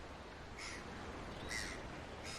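Seabirds calling at a breeding colony on Lady Elliot Island, with three short raspy crow-like calls at regular intervals over steady wind and surf noise, fairly faint and distant.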